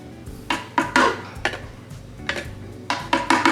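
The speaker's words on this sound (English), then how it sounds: "So I'm gonna do like 2 big spoonfuls of garlic in here." A spoon clinks and knocks against a bowl as garlic goes into a green goddess dip, making several sharp, close taps in an uneven rhythm with no talking.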